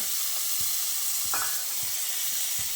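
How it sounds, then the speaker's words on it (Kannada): Onion frying in hot coconut oil, a dense steady sizzle with faint soft clicks and a brief stir scrape partway through, close and continuous with no voices. "ಈರುಳ್ಳಿ ಹಾಕಿ ಒಂದು ಎರಡು ನಿಮಿಷ ಫ್ರೈ ಮಾಡಬೇಕಿದೆ"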